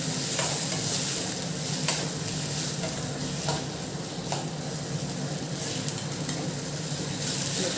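Tomatoes sautéing in a pan make a dense, continuous sizzle and hiss, with occasional soft clicks of a utensil. The sound is close, and nobody speaks.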